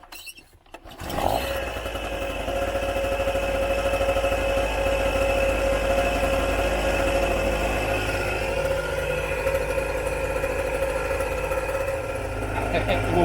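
A small petrol generator in a campervan catches after a brief pull, then runs at a steady, loud drone with a constant mechanical whine for the rest of the time.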